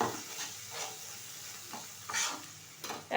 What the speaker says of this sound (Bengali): এখন দিয়ে দেবো কিছুটা আদা রসুনের পেস্ট।